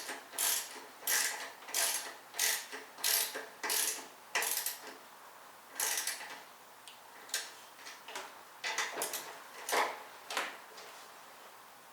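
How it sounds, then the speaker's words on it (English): Socket wrench ratcheting on bolts while assembling a Coleman BT200X, rhythmic bursts of clicking pawl strokes repeating about once per second, close and crisp, with a few irregular pauses, no talking. "So I had to break out the old socket wrench."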